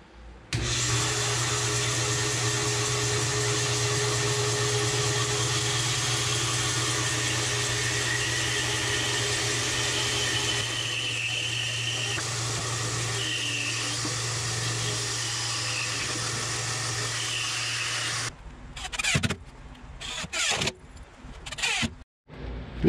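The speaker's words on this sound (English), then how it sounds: "I'm gonna get the corners chopped off here on the bandsaw." A bandsaw runs steadily with a loud motor hum and whine, trimming the corners off a wet black walnut blank for woodturning, then winds down into a few scattered clunks and knocks near the end.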